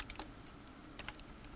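Quiet typing on a computer keyboard: a few faint, scattered key clicks in two short bursts over a steady hiss, with no one talking.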